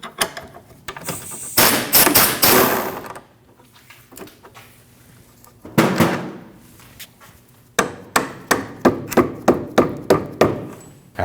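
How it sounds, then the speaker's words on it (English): Rubber mallet tapping a long 19 mm bolt out of the rear suspension knuckle on a 2003-2008 Subaru Forester: loud bursts of knocks early on, a lone strike midway, then a steady run of about eight evenly spaced taps near the end. "After tapping it out with a rubber mallet"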